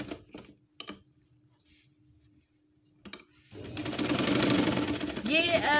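After some scattered clicks and handling noises, a sewing machine starts stitching fabric for a patchwork basket, whirring in a fast, steady mechanical buzz up close while someone talks.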